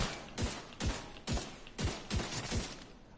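Rapid bursts of gunfire in The Division 2 shooter game, about seven sharp shots spaced roughly every half second, each with a punchy low thump and bright crack, loud and close with no talking.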